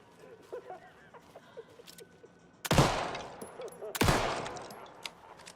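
Two loud gunshots ring out about a second apart, each followed by a decaying echo, as cans are shot at in Alan Wake 2; faint background sounds and light talk precede the shots.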